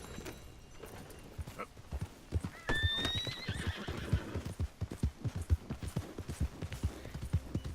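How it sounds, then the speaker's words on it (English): A horse in the video game Red Dead Redemption 2 gives a clear whinny partway through, while steady clip-clopping hoofbeats thud rhythmically under it and carry on to the end. "Oh, is that the new horsey?"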